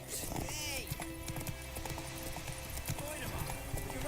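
Roach, a horse in The Witcher 3: Wild Hunt, gallops with steady, rapid hoofbeats and a brief whinny, while speech and game sounds run over the top.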